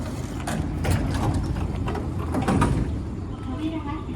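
A Nankai Electric Railway train door in Osaka slides open nearby at night with a mechanical whoosh and clunks over the rumble of the carriage.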